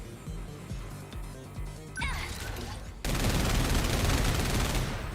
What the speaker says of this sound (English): Yeah, you can railgun some missiles.